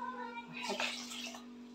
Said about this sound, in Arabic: دابا غادي نبدا ندير الماء